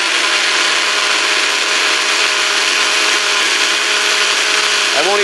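A regular kitchen blender pulses red chili paste, a steady loud whirring motor that runs without a break and shifts pitch slightly near the end as the motor changes speed.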